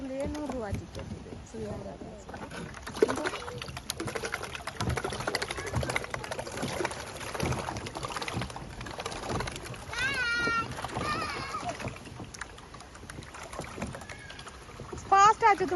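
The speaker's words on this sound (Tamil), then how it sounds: "இது வந்து சின்ன இந்த போட்." A small tourist boat at a park glides over water with a steady wash and hum, while people talk and birds chirp nearby throughout.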